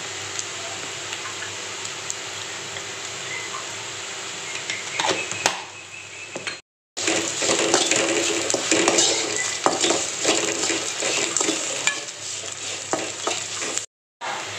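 A spoon stirs chicken curry with ginger garlic paste in a Chettinad-style pan, with continuous frying sizzle and scraping, loud and close, broken by two brief silent gaps.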